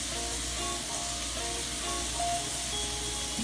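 Green onion hits a hot pan for pineapple shrimp fried rice, giving a steady, hissy sizzle that holds at an even level from start to finish.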